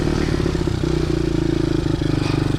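A pit bike engine running and revving, a loud close buzzing putter with rapid regular firing pulses and slight shifts in pitch as the throttle changes, no talk.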